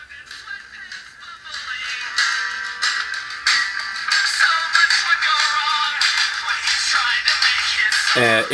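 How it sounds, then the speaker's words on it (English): Music played through a UWatch U8 smartwatch's tiny speaker, thin and tinny with no low end, steady and fairly loud until it cuts off abruptly. "we're going to go ahead and play music through the watch"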